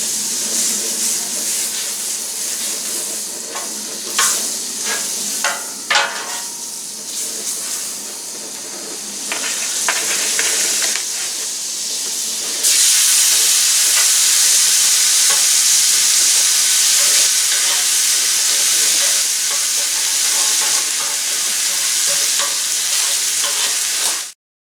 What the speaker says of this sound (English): So, using a good old butter. Gonna do a hard sear,